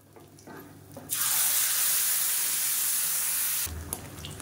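Tap water gushes steadily into a mixer jar to rinse it out, a loud close rush lasting a few seconds, with brief handling knocks before and after.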